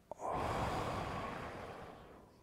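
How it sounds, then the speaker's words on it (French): One deep breath, close and soft, drawn in and then let out as a long, gradual exhalation during a guided breathing exercise. "Alors on va faire une respiration."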